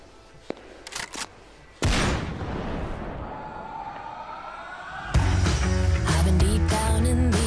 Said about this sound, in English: I was a bit stunned about that explosion there.